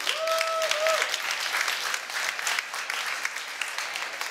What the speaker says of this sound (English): Can we get a round of applause for eSAX, please?